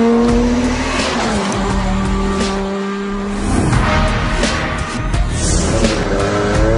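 Peugeot 207 S2000 rally car on a tarmac stage in the Canary Islands, roaring close and loud at high revs, engine pitch dropping through gear changes, with tire squeal and skidding noise as it speeds past.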